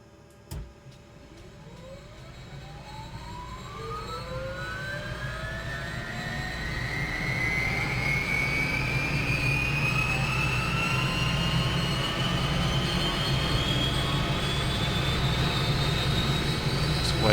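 UH-1H Huey helicopter turbine starting up in Microsoft Flight Simulator: after a click, a rising whine climbs steadily in pitch over a growing engine rumble, building louder and then holding steady.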